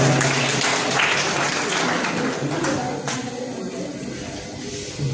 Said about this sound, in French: Vos applaudissements, s'il vous plaît, Monsieur Ousmane Faye.